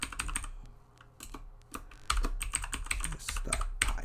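Typing a command on a computer keyboard: close, quiet clusters of rapid key clicks in irregular bursts, with short pauses between them and no speech.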